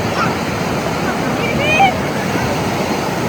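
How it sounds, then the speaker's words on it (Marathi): Sea waves wash steadily onto Devgad beach on the Konkan coast, a continuous broad roar of surf with a brief swell of louder breaking midway. "हा तो समुद्र"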